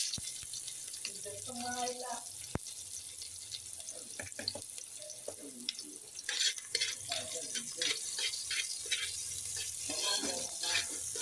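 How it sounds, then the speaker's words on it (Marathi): Onion crackles and sizzles in oil with stirring and clattering in a pan, a few soft voices briefly heard early on. "हे कांदा टाकते फोडणीला."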